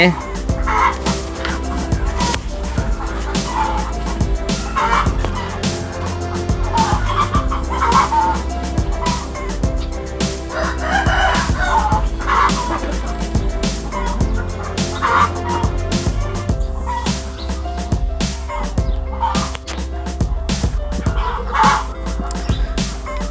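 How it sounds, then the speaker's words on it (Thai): A crowded flock of farm chickens waiting for feed clucks and squawks continuously, with gobbling and rooster-like calls mixed into a loud, busy din. "ไก่รอกินอาหารอยู่ครับ"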